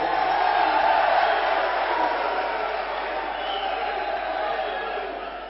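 A congregation at a church gathering raises a loud, continuous roar of cheering and acclamation, a broad wash of many voices holding steady before easing slightly toward the end.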